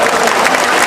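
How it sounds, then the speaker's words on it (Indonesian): An audience applauds at a speech on Indonesian national unity and tolerance, a dense, steady wash of clapping that fills the whole moment with no voices on top. "Aplaus."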